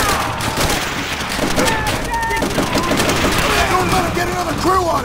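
Sustained rapid machine-gun fire from an MG emplacement in Call of Duty: World at War, dense and loud throughout, with whistling ricochets and distant shouting soldiers mixed into the battlefield din.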